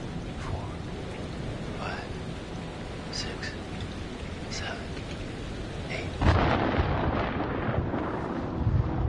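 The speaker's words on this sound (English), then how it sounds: "The storm's eight miles away." A storm rumbles in the game Man of Medan, with a dull roll of thunder under steady rain and a sudden louder swell near the end, while voices talk faintly over it.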